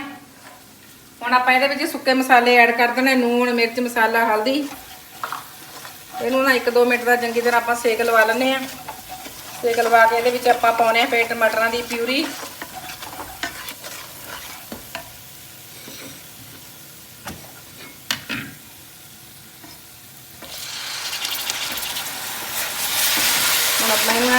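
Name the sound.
masala frying and being stirred for matar paneer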